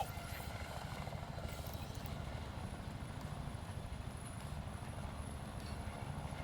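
A helicopter in a video game thumps with a steady, even rotor chop that runs the whole time, loud and continuous with no talking over it.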